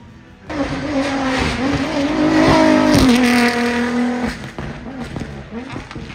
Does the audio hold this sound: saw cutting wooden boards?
no